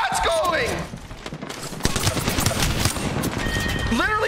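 Rapid gunfire in Apex Legends fights, bursts of close, loud shots rattling in quick succession over the middle of the clip, mixed with game sounds and a player talking.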